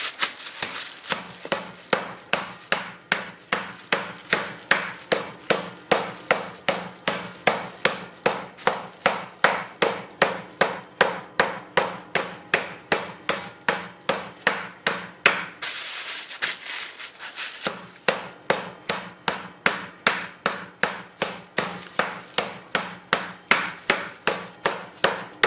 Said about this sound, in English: Do not get your finger between the hammer and the meat.